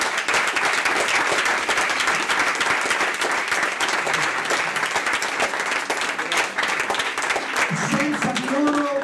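Strong audience applause at an Italian classroom technology presentation, steady dense clapping filling the whole stretch at full level, with some voices mixed in near the end.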